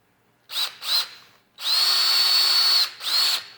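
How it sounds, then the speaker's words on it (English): Power drill boring holes into a plastic skeleton prop, loud and close: two short bursts, then a long sustained whine of about a second and a quarter, then a final short burst. "let's drill some holes"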